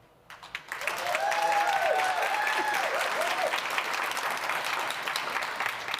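An audience breaks into steady applause for a guest at a live interview event, the clapping swelling quickly and holding full and even, with a few voices briefly rising over it.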